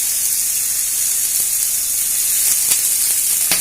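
Crushed shallots hit a hot pan alongside ginger, green chilli and curry leaves, giving a steady, close, bright sizzle with a few faint clicks and no talking.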